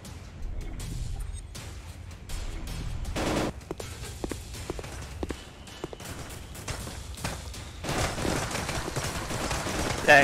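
Gunfire in a VR shooter game: scattered sharp shots and short bursts, some close and loud, others lighter, with footstep-like taps between and a denser rattling volley toward the end.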